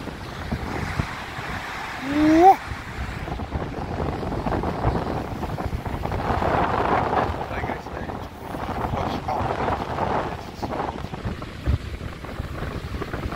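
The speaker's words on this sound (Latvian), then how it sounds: "No jā, vējš, baigais ir" Strong wind buffets the microphone at Vøringsfossen waterfall in Norway, a continuous roaring rush with gusts swelling and fading, while people talk over it.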